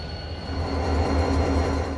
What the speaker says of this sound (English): Two GP30s are on the Richmond Road Switcher as they run around their consist of empties for Collier at Christie.